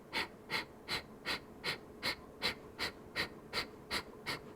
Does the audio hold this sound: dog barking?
no